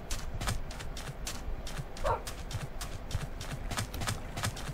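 Horse hooves clip-clopping in Minecraft, a steady rapid run of hoof clops throughout with a brief bark-like yip partway through.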